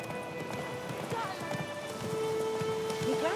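Hooves of the horse Roach clip-clop in The Witcher 3, a steady close trotting rhythm under game music and a spoken voice.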